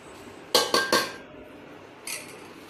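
A spoon clinks sharply against a bowl three times in quick succession while gharela batter is mixed, then one softer clink follows after a pause, close and alone in a quiet kitchen.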